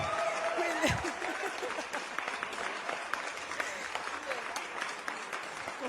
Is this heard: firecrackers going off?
no